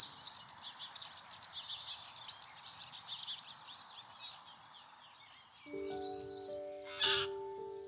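A grasshopper warbler's insect-like reeling song, a faint, steady, high buzzing trill that fades over several seconds, with other bird calls and a brief tonal sound near the end.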